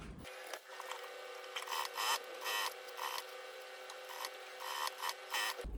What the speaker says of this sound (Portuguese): E vamos passar uma costurinha aqui, ó, bem na bordinha aqui, prendendo esse nosso bolso no lugar.